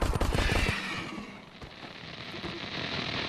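Gunfire from the VR game Crashland crackles in a quick cluster of sharp shots at the start, followed by lower rumbling and scattered fainter reports, with no talk over it.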